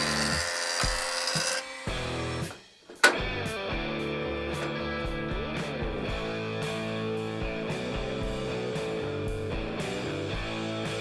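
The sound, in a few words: wood boards run through a jointer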